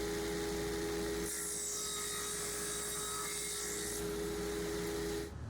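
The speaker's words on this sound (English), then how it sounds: "I cut a 1-inch tenon 1/2 inch thick, and I'm using a dado stack" A table saw's dado stack cuts tenons on wooden workbench stretchers: steady motor hum, then a rising high-pitched cutting whine for about three seconds as the blade chews through the wood, before the motor runs on alone.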